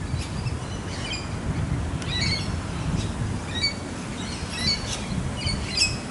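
Rainbow lorikeets, a pair of small parrots, squawk at their nesting hollow, giving repeated sharp calls with chirps at irregular intervals over a steady low wind-like background.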